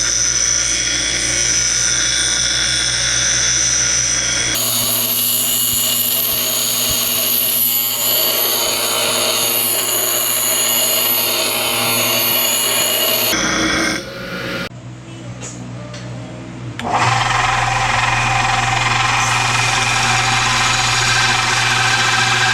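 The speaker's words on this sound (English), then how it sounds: "I'll start roughing this in on the bench grinder" Bench grinder roughing the edge of a polished steel coaster, a loud steady motor whine with grinding scrape that shifts in tone as the workpiece is pressed, briefly dropping before resuming.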